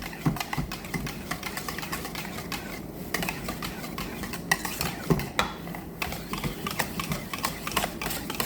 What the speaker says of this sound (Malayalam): അപ്പോൾ ഇളക്കി കൊടുക്കുമ്പോൾ നല്ല ഒരു ലൂസ് കണക്ക് വരും